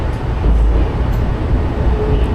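Steady low rumble of a Russian metro train running along the track, loud and continuous with a broad hum and faint higher squeaks.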